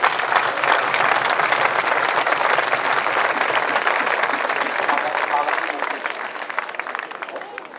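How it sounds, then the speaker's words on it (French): A festival crowd applauds the cart teams at a traditions celebration in Saint-Rémy-de-Provence, dense and loud clapping that holds steady, then thins slightly toward the end. "on peut les applaudir"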